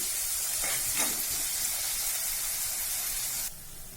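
Onions frying in a pan on low heat for a brinjal coconut curry, a steady bright sizzle and hiss up close that drops suddenly quieter just before the end.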